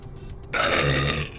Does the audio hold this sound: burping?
yes